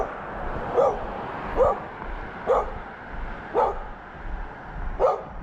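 A dog barks during an outdoor walk, giving five or six evenly spaced single woofs at moderate distance over a constant low background rumble.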